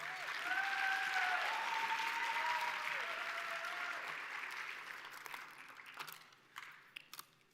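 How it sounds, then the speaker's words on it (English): An audience at an awards ceremony applauds a community service award recipient, with full, dense clapping and a few sustained whistle-like tones at first, gradually thinning and fading out, leaving a handful of scattered claps and knocks at the end. "Give her another round of applause"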